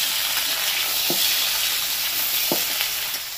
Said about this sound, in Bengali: এবার বেগুনটাকেও ভালো করে ভেজে নেব।